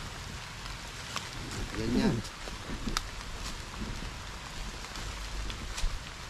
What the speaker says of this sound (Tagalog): Ah, malakas ang ulan.